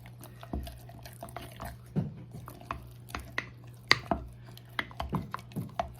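Sourdough starter being mixed with fresh flour in a jar, with irregular close scraping, knocking and sticky squishing strokes of a utensil against the jar, faint and intermittent over a low hum.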